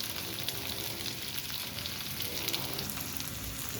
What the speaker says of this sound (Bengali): কলার ডালটাও ভেজে নিচ্ছি